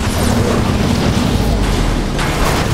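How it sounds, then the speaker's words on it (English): A ship's failing reactor core detonates in the Transformers: War for Cybertron video game, a loud, dense, roaring blast of explosive rumble that fills the whole short stretch without letting up. "The core's about to detonate!"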